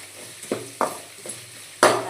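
Onion, dried red chili and curry leaves sautéing in a pan, with a steady low sizzle broken by four sharp stirring scrapes, the last one the loudest.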